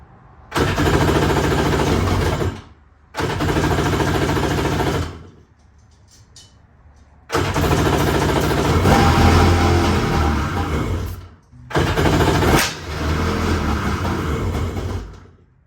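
Dirt bike engine running on ether, three loud close bursts of buzzing, revving engine noise several seconds each, separated by short quiet gaps where it dies out.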